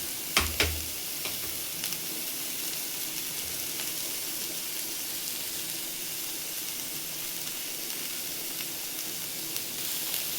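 Chopped capsicum, cabbage and cooked carrot shallow fry in a pan for pasta, giving a steady, even sizzle that lasts throughout, with a couple of faint knocks near the start.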